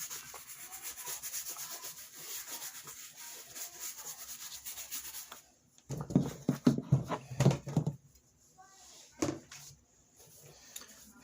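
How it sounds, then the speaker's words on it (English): Brush scrubbing dust off thrifted Prada sneakers, a close rhythmic scratchy rubbing that runs steadily, then a louder burst of brisk strokes followed by quieter scrubbing. "Take a brush and we're going to brush off all of that dust."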